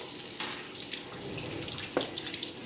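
Tap water runs steadily from a faucet into a sink as soapy hands are rinsed, a continuous close splashing hiss with small surges and no talk.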